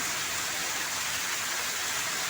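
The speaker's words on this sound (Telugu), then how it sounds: "వర్షం అయితే చాలా చాలా వర్షం పడుతుంది కదండి" Heavy rain in a village, a dense, even hiss of downpour that holds steady throughout, close and fairly loud, with no voices.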